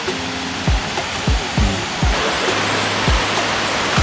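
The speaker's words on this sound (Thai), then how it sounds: "นี่ครับตรงน้ำตก" A tall waterfall in Narathiwat, Thailand, gives off a constant broadband rush of falling water, with a few dull knocks and thumps close to the microphone.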